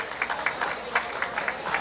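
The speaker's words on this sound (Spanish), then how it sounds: "Les pido un aplauso para ustedes que han sido pacientes" Audience applause fills a convention center hall during an education department event, a steady wash of many hands clapping at moderate distance, fairly faint, with no clear voices over it.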